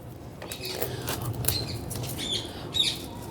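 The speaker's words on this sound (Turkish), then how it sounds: "Ah papağan geldi buraya yeşil yeşil papağanlar vardır" Green parrots arriving in Istanbul, wings flapping in bursts over steady outdoor background noise, with a few faint chirps from nearby birds.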